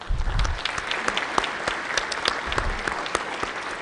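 An audience in a state legislative chamber applauds, steady dense clapping from many hands that runs through the whole stretch with a few sharper individual claps standing out.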